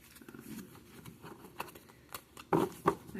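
A deck of tarot cards being shuffled close up, with soft riffling patter and a couple of sharper snaps toward the end, and no voice over it.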